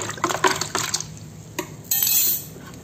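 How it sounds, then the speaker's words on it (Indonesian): A liquid mix of Yakult and molasses is stirred in a container, giving close, brief sloshing and splashing with light clinks in a few quick bursts and no talk. "Kita aduk."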